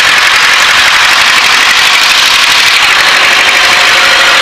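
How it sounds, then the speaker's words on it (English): A Luscombe light airplane's engine runs steadily during warm-up, a loud, continuous, close-miked drone with a hissy, even texture and no talk over it. "Warm up this engine."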